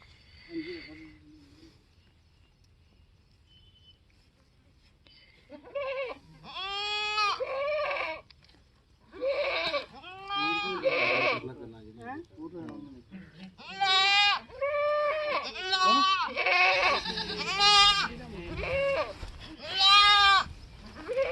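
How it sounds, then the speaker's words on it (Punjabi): Goats bleat repeatedly at a goat market in Muktsar, loud and close, a series of wavering cries that come in bursts after a quiet start, with faint background noise between calls. "ਬੱਕਰਾ ਤੁਹਾਨੂੰ ਵਿਖਾ ਦਿੰਨੇ ਆ"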